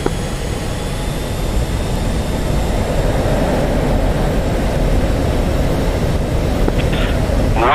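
A jet fighter engine roars at full afterburner for takeoff in the DCS World flight simulator, a loud, dense and steady rumble that holds unbroken throughout.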